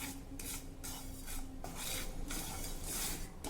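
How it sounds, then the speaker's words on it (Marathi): White sesame seeds are dry-roasted in a pan over a low flame, giving a soft rhythmic rasping and scraping as a spatula sweeps through them, close and fairly quiet. "आता यामध्ये 1 टेबलस्पून तीळ घालणार आहे। पांढरे तीळ मी वापरले आहे। हे देखील मंद गॅसवर भाजून घेऊ।"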